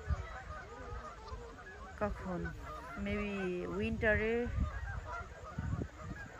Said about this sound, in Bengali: আর এই যে গুজ, স্নো গুজ যেগুলা ওগুলা আসে